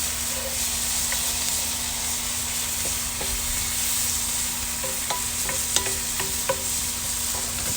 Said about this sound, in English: Let these mushrooms cook down for just a couple of seconds.